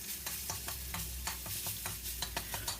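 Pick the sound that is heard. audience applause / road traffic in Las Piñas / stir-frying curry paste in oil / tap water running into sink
stir-frying curry paste in oil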